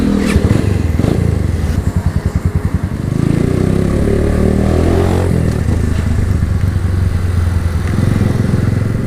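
Motorcycle riding in a group of three bikes, with a loud, close engine droning steadily and a brief pulsing rev near the start, and no talk.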